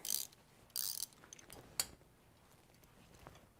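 Ratchet wrench clicking while tightening the drive belt tension on a Jeep Wrangler during a thermostat fix, heard as a few short bursts of rapid metallic clicks, fairly close and quiet, with small knocks between them.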